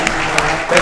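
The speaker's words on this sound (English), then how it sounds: "You're clapping for yourselves right now." A conference audience claps in a brief, fairly close burst of dense, steady applause, with a few sharper claps standing out, and no voices over it.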